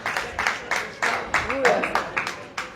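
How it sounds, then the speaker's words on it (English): Audience at a religious gathering during a Bhagavat-saptaha in Bhuj claps for a visiting guest, a burst of hand clapping with irregular strong beats over about three seconds, fairly close, with a voice briefly heard over it. "Clap for him."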